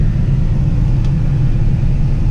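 A 1978 Lincoln Continental cruises along a road, its engine a steady deep rumble heard from inside the cabin, loud and continuous with no talking.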